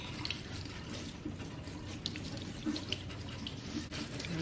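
Pampas grass plumes held under a running faucet, a steady close hiss of tap water splashing into a sink with a few brief clinks, no talk.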